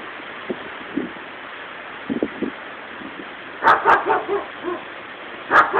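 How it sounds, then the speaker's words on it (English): A neighbor's dog barks across the street near Lake Michigan amid high winds: scattered single barks at first, then a louder run of repeated barks, moderately distant over a steady wind rush. "You hear my neighbor's dog barking."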